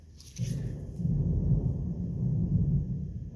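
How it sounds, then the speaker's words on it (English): A steady, low, deep rumble like distant thunder rolls on throughout, with a faint hiss of rain or wind above it. "Oh, there's a storm outside."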